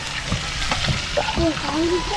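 Steady sizzling of food frying in a pan, a constant crackling hiss running under a person talking.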